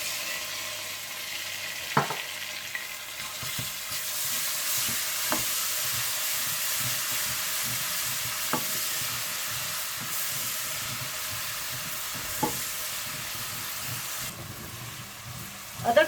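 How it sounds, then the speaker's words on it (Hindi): Ginger and garlic frying with golden-brown onions in a pan, a soft continuous sizzle with occasional scraping stirs and clinks, fairly quiet, no talking. "जैसे ही प्याज हल्के गोल्डन ब्राउन हो जाए तो आप इसमें अदरक लहसुन डालकर भून लें"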